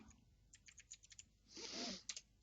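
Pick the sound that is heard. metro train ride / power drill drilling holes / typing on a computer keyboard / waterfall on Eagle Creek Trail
typing on a computer keyboard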